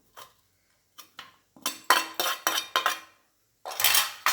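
A metal ladle scrapes and clinks against a pan while pushing cooked radish and dal aside, making short irregular metallic taps and scrapes with brief quiet gaps between them.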